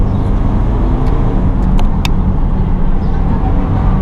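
A BMW 420d Convertible with a diesel engine pulls hard in Sport mode, giving a steady, loud engine and road roar mixed with wind rush, with no talk.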